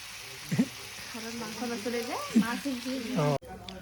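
Green banana papad fries in a pan with a soft, continuous sizzle as people talk nearby.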